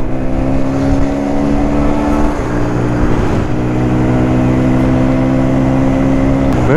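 A 125cc motorcycle accelerates to overtake a tractor on a road, its engine buzzing loud and close, the pitch rising, dipping briefly, then climbing steadily again.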